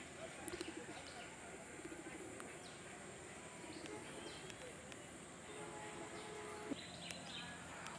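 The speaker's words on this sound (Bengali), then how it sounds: "পরন্ত বিকেল, এই সময় কবুতর অল্প কিছু ওই যে উঠতেছে।" Pigeons fly about in the late afternoon while soft, low cooing repeats faintly at a distance under a steady outdoor background hiss, with a voice heard quietly.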